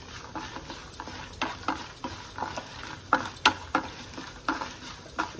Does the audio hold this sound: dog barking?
no